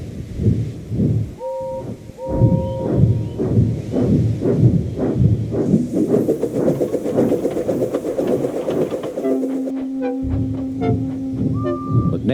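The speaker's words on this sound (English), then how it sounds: "Gordon came clanking past, hissing rudely." A steam locomotive named Gordon puffs in a steady, loud rhythm of chuffs, with long whistle tones and a hiss building toward the end, and no voices over it.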